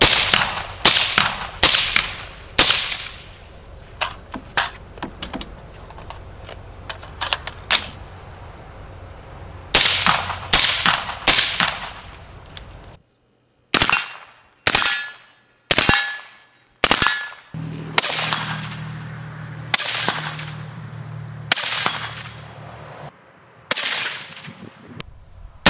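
Suppressed gunshots through a Dead Air Primal silencer, a series of sharp cracks in quick strings and singles with pauses, outdoors and close, with metallic pings and some fainter shots in between.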